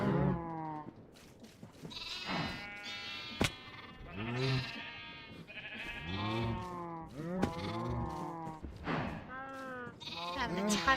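Repeated sheep bleats from farm animals in a video game, layered and overlapping in quick succession, loud and close throughout.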